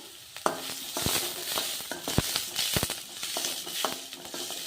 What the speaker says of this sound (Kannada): ಈರುಳ್ಳಿ ಫ್ರೈ ಆಗಲಿ, ಗೋಲ್ಡನ್ ಕಲರ್ ಬರೋವರೆಗೂ ಫ್ರೈ ಆಗಲಿ.